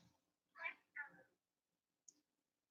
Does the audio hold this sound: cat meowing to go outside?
yes